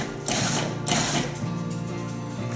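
Food processor pulsing romesco sauce, a continuous mechanical whir with grinding surges that swell around the first second, close and steady for the whole stretch with no talking.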